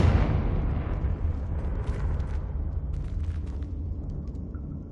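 A Confringo fire spell explodes in Hogwarts Legacy, one loud, full blast that starts strong and then rumbles and fades slowly into a long roaring tail, with no voices over it.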